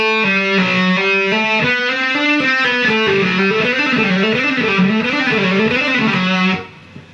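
Electric guitar with light distortion plays a fast legato cycling pattern of picked notes, hammer-ons and pull-offs, a loud, even stream of rapid notes repeating in a looping figure before it cuts off near the end.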